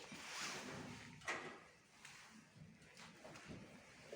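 Second door of an old lift being closed, a few soft sliding scrapes and a knock at about a third of the way through, fairly quiet, with faint indistinct sounds afterward.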